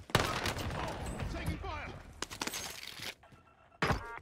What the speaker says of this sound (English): somebody's shooting from the top roof, I believe